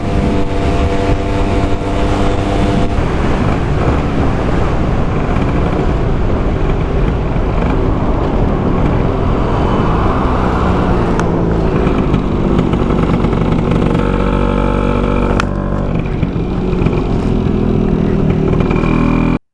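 A Vespa PX scooter fitted with a Pinasco 251 kit rides along, its engine droning loudly and steadily with shifts in pitch under heavy wind rush, no talking.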